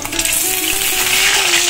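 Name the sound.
peeled duck eggs frying in a pan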